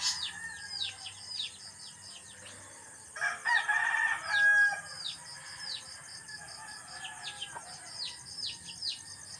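A rooster crows clearly in the middle, surrounded by steady chirping birds and occasional soft clucking from chickens nearby.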